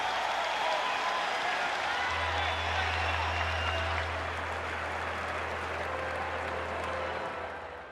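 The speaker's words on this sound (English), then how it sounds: "he gets a round of applause from the Wrigley faithful" A ballpark crowd at Wrigley Field applauds a departing pitcher during a Cardinals at Cubs game, a broad, distant wash of clapping and crowd noise that holds steady for several seconds before easing off.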